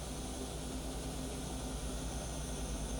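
A Hardinge CHNC-III CNC lathe spindle turning at 3,000 RPM gives a steady, fairly quiet machine hum with a constant whine and low drone, unchanging throughout and without voices.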